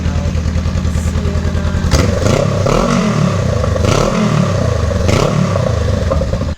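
A Honda Rebel 500 fitted with a Radiant Cycle Shorty GP exhaust idles with a deep rumble, then revs repeatedly in a garage, each throttle blip rising and falling, loud and close.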